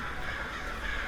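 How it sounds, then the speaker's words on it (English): Crows caw in a raspy, continuous stretch against a dense wash of background noise. "heard the crows calling from the trees nearby."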